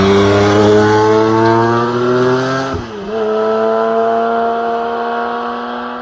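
Close, loud engine note of a Singer DLS on the Nürburgring: a rising high-revving howl that dips sharply on a shift, then climbs again and fades slightly as the car pulls away, with no voices.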